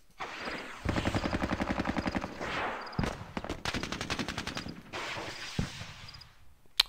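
Gunfire in the Squad Battles: Tour of Duty war game: sustained bursts of rapid automatic fire with scattered single shots and heavy booms, loud and dense across the whole stretch with no talk.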